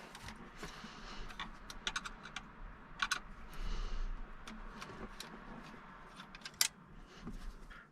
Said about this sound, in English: Two screws undone.